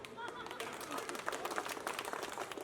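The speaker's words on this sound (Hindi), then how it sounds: "ताली बजानी पड़ेगी।" Audience clapping at a lively birthday celebration for a Bollywood lyricist's daughter, a steady scatter of hand claps mixed with crowd chatter and music throughout.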